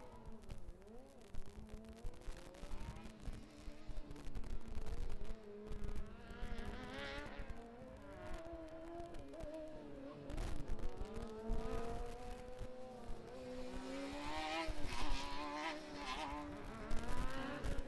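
A Formula Student endurance race car passes on track, its engine buzzing and revving with rising and falling pitch, gear changes and a steady whine, moderately loud across the whole stretch with no talk.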